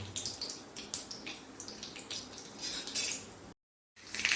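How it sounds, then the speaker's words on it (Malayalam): Mustard seeds and a dried red chilli splutter and pop in hot coconut oil, a dense crackle of close, sharp bursts with no talking, cut off briefly by a gap of silence near the end. "ഈ കടുകൊന്ന് പൊട്ടട്ടെ"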